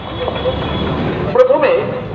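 A Kolkata tram rolls along with a loud, steady rumble and hum from inside the car, with a brief squeal or horn-like tone near the end and voices talking over it.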